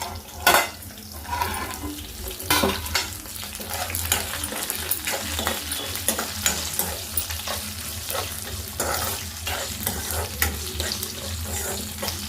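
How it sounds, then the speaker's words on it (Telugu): Onions for an ivy gourd and coconut fry sizzle and are stirred in a pan, with continuous frying hiss and scraping stirs in an irregular rhythm, close up and with no talk. "కొంచెం వేగాలి ఉల్లిపాయలు"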